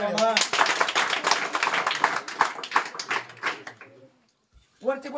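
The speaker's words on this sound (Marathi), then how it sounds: "जरा टाळ्या" An audience at a school ceremony in Sangvi Patan honouring high-scoring students claps for a girl student. Dense, lively applause lasts about four seconds, then stops, and a voice starts speaking.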